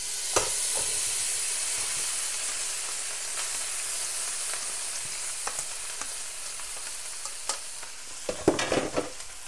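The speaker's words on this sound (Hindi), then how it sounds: "ज़ीरे को थोड़ा सा भूनेंगे, इसकी फिर बड़ी अच्छी खुशबू आती है। अब साथ ही ये मैं डाल दूंगी" Rice and cumin fry in a pan with a constant soft sizzle and hiss. Several scraping stirs near the end break through the frying.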